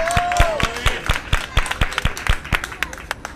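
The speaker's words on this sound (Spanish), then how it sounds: "¡Un aplauso para ellos!" Applause for participants entering a children's show at a McDonald's: a small group claps in an uneven rhythm, fairly close, with voices and cheering mixed in.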